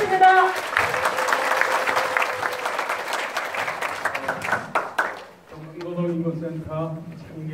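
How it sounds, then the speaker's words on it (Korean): Crowd applause at the founding assembly of a Gyeongbuk labor human rights center, dense clapping for about five seconds that fades before a voice begins speaking. "큰 박수 부탁드리겠습니다."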